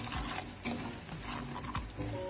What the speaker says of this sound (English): So we're gonna saute that a little bit.